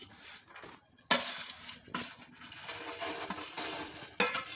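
A utensil stirs Maggi noodles in a pan with close scraping and swishing, sizzling softly, with sharp clinks against the metal at the start and end.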